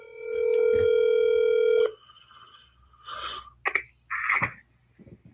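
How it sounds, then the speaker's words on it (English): A telephone dial tone hums steadily for about two seconds while a call is placed, then stops, followed by a few short rustling and handling noises. "Anthony, I'm calling you."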